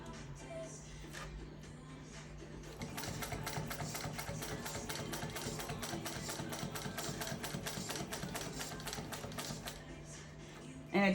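A Juki 154 sewing machine stitches leather with Tex 70 thread and a size 20 diamond-tip needle, running in a steady, rapid rhythmic clatter for several seconds, fairly faint and close, with no talking.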